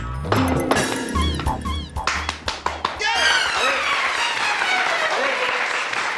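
Scattered hand claps and taps ring out in a courtroom scene, loud and uneven, with several sharp individual claps rather than steady applause, mixed with voices speaking over them.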